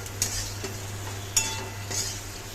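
Spices being stirred and fried for a Bengali papad curry, a soft sizzle running steadily with a few light spoon scrapes and taps against the pan.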